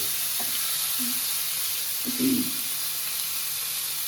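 Mint and mustard seeds frying in hot oil for a chicken curry crackle with a continuous hiss and a couple of sharper spattering pops, close by, with no voices.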